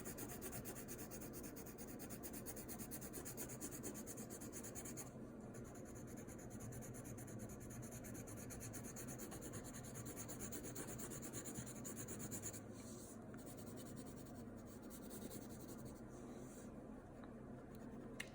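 Colored pencil rubs steadily across paper while drawing a textured layer, a continuous close scratchy rasp with slight shifts in stroke, no voices.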